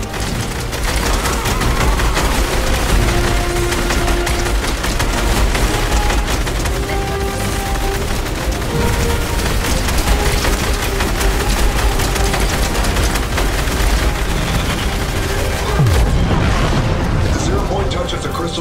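Sustained gunfire and explosions in a Fortnite Creative battle: loud, dense rapid bursts and booms rolling continuously with no pause, with game voices speaking over the barrage.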